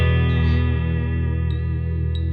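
A Fender Player Plus Stratocaster electric guitar rings out with effects, a sustained wavering chord bent with the tremolo arm, close and loud with no talking.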